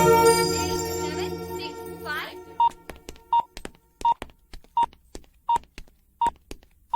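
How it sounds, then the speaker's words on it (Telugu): A phone is dialed and rings in a Telugu mystery film: after a short tonal passage, quick keypad tones give way to a ringing signal of evenly spaced beeps, heard clearly and alone. "సార్ రింగ్ అవుతుంది సార్"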